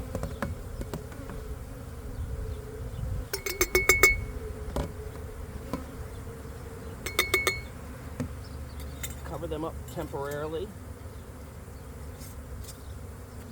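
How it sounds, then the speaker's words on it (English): Honey bees scooped into a glass jar for a varroa mite check give a steady insect buzz, with brief clinks and handling knocks around it, while a person speaks a few words nearby. "So I got my bees in the jar there"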